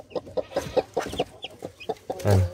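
Brahma chickens with feathered feet cluck in a steady run of short, close calls, ending in a louder squawk, with no voices over them.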